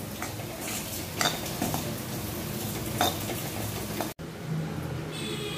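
A metal spoon scrapes and stirs semolina roasting in ghee in a pan over high flame with soft sizzling, repeated clinks over a steady low hiss, then a brief cut and quieter stirring.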